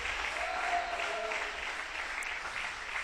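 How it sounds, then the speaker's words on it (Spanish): A church congregation applauds loudly, a continuous wash of many clapping hands sustained evenly throughout, with a brief tonal sound briefly audible within the clapping. "Si usted va a aplaudir al Señor, aplauda fuerte."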